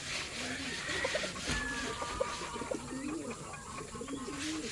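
Pigeons coo softly in low, repeated rolling notes amid other bird chirps, with a steady background hum throughout.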